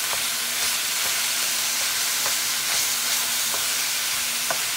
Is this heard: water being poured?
no